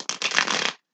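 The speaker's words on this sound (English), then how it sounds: "we're going to give it a couple shuffles" A Universal Tarot deck is shuffled by hand in one brisk, close riffle of card edges lasting under a second, loud and alone with no voices.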